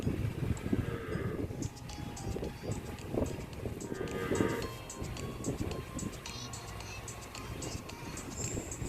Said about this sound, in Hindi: और आप देख सकते हैं कितनी तेज़ हवा चल रही है।